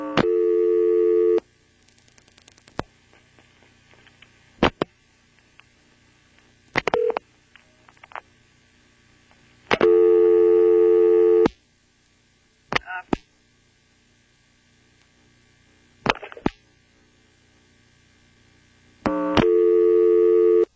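Trunk signalling tones on a 1977 NX1-E telephone exchange in Vanceboro, North Carolina, after dialing 0: steady buzzing tone bursts of a second or two alternate with silences, broken by sharp clicks and brief relay chatter.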